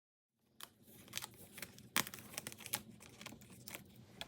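A gyro cut craft knife cuts around a clear sticker, close and faint, giving soft crinkling and scratchy scraping strokes with an irregular rhythm.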